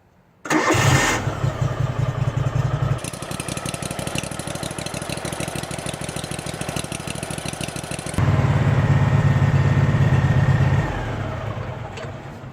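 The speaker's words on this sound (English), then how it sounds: "So we're gonna fire it up and then we'll check it again after it's run for a bit." A Cub Cadet Z-Force SX 60 zero-turn mower engine starts after an oil change. It cranks, catches and settles into a loud, steady idle close by, then revs higher for a few seconds before easing back down.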